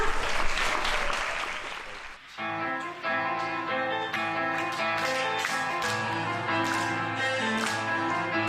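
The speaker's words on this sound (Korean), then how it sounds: "두 번째 챕터를 열어줄 윤수환 학생의 첼로 무대, 여러분의 힘찬 박수로 시작하겠습니다" Applause from a studio audience at a televised talent show fills the opening two seconds, then gives way to a sustained cello performance with steady bowed notes.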